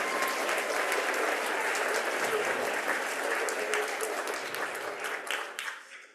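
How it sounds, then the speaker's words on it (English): Steady applause from an audience at a green schools celebration, honouring the schools just named, dense and sustained for several seconds before it fades out at the end. "So let's give them a round of applause."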